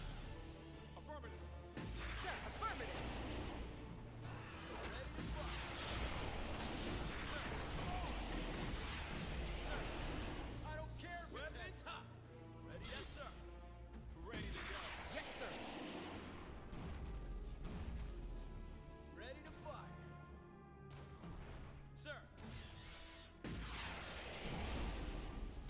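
Plasma grenadier bugs fire artillery in Starship Troopers: Terran Command, bringing repeated loud crashing blasts and impacts over a dense battle din. Someone talks at times over the barrage.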